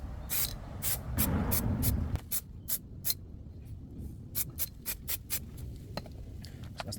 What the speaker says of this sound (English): now we're going to get into priming the calipers